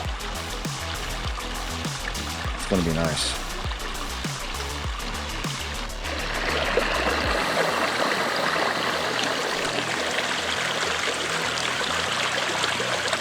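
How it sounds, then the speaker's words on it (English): A cold mountain stream on the Tahoe Rim Trail flows steadily nearby, a continuous rushing trickle that grows fuller and louder partway through, with a person briefly talking over the water early on. "oh look, it's a nice beautiful stream."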